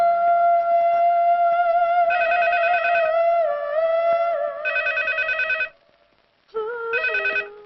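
An old-style telephone bell rings loud and close in repeated bursts of warbling tones, with a short silent gap before one last burst.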